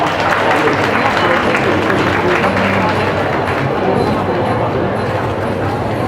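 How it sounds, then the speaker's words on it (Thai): An audience at a Thai textile craft event applauds a designer being introduced, a loud, steady wash of many hands clapping with crowd noise, continuous for several seconds. "ขอเสียง ปรบมือให้พี่หมูด้วยนะครับ"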